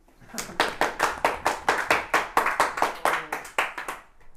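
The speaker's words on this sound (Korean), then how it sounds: "박수!" A classroom of students claps in response to a teacher, a steady run of sharp, fairly loud hand claps in quick rhythm for about four seconds, with a few stray voices underneath.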